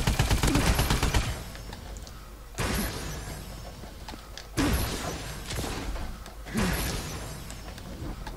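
Gunfire from new weapons in the video game Call of Duty Advanced Warfare, four loud bursts of rapid shots at roughly two-second intervals, each decaying into a ringing tail.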